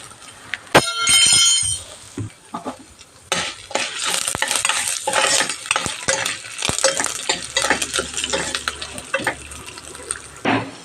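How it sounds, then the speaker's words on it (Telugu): Dry red chillies and curry leaves stirred in a hot pan with a utensil, giving irregular scraping clinks over a soft frying sizzle, close and moderately loud. "అలాగే ఒక 2-3 ఎండుమిర్చి, కాసింత కరివేపాకు వేసి బాగా కలుపుకోవాలి."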